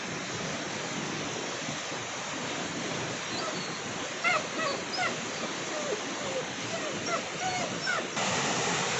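A puppy whimpers and yips in short, high, repeated cries over steady rain-like noise, the calls moderately close and coming in scattered bursts.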